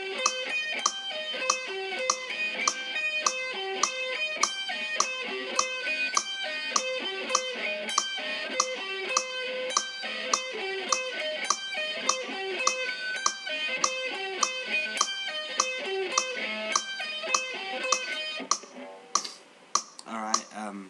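Guitar sweep picking at two notes per beat, an even stream of quick plucked notes that stops near the end, followed by a few scattered clicks.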